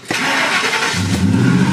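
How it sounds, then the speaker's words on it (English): A supercharged 5.4-litre engine in a 2002 Ford F150 Lightning cranks and fires up loudly and close, then settles into a steady rough idle. "Let's hit the key, restart the engine"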